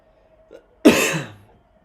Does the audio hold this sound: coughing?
yes